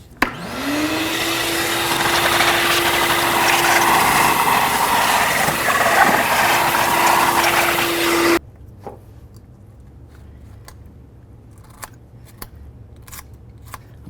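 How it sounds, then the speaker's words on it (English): A shop vacuum cleaning around the intake manifold area of a 1998-2012 Ford Crown Victoria whines up to a loud steady drone, runs for about eight seconds and cuts off, followed by quiet scraping and small clicks. "So I'll just use my vacuum. I'll clean it up as good as possible along here."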